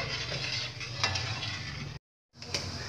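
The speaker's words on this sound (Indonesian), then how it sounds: "Kalau sudah mendidih seperti ini" Syrup for an iced es campur dessert bubbles and sizzles in a pan while being stirred, a dense close frothy hiss with light scraping, cut by a brief silent gap before resuming.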